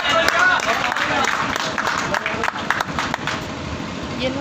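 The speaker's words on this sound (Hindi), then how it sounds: "जोरदार तालियां जोगिंदर साहब के लिए" An audience at a gathering applauding to welcome Joginder Sahab, a dense, steady patter of many hands clapping close by for a few seconds.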